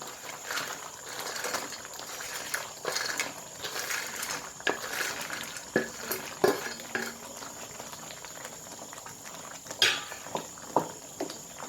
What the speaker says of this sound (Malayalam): നല്ലപോലെ തിളച്ചിട്ടുണ്ട്. നമുക്ക് ഇതിനകത്തോട്ട് നമ്മൾ വറുത്ത് വെച്ചേക്കുന്ന മുളക് ഇട്ട് കൊടുക്കാം.